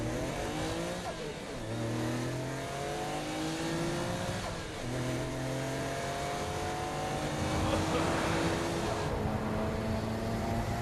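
A car engine drones and revs continuously while driving in Saints Row: Gat Out of Hell, with rising gear-change whines, steady road noise and a brief tire squeal toward the end.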